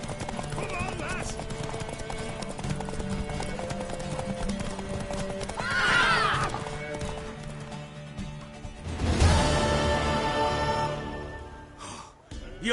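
Steady clip-clop of horse hooves with a horse whinnying and snorting, people speaking over the hoofbeats, music and effects underneath, in The Witcher 3: Wild Hunt.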